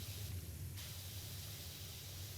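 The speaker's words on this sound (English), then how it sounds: "I'll just walk over here and spray the ground" A pressure washer in PowerWash Simulator 2 spraying the ground, a dense continuous hissing spray with a steady low motor hum, loud and unbroken, no talking.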